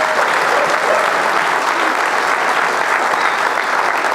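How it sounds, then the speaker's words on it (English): An audience at the Weiser Fiddle Contest applauds the judges, with dense, steady clapping filling the hall at a constant level throughout. "So you should applaud them."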